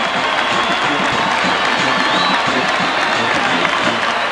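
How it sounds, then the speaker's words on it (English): A sellout crowd in the stands at a Nebraska at Oklahoma college football game cheers and applauds after a touchdown, a loud, continuous roar, with a broadcaster talking over it. "this sellout crowd, it started as a sellout crowd, has something to cheer about."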